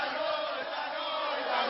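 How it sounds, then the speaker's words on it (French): A large crowd in Madrid shouts and chants in unison, a loud, dense mass of voices that holds steadily throughout. "Non à l'ETA, crie la foule"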